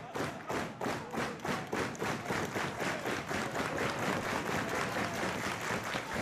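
A wrestling crowd at an independent Beyond Wrestling tag-team match pounds out loud, rhythmic unison clapping and stomping, steady beats about three per second, continuous and dense with no commentary over it.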